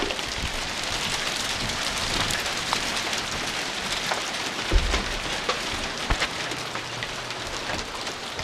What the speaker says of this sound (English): Okay, here comes rain.